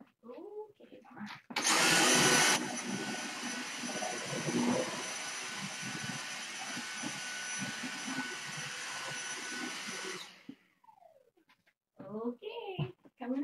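A household vacuum cleaner switches on and roars steadily and close for about eight seconds, then cuts off. A voice and other speech are heard before and after.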